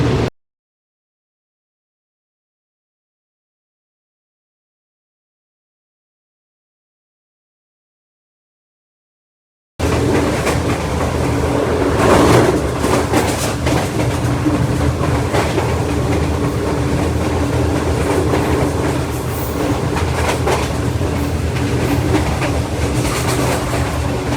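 Shalimar Express train on the Lahore to Karachi run, a steady loud rumble with clickety-clack from the rails, heard from inside the carriage after an opening stretch of silence.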